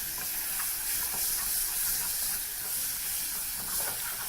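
Aromatics and tomatoes sizzle steadily in a hot pan for a vegetable githeri as they are stirred, a close, continuous hiss with faint scraping and no talk.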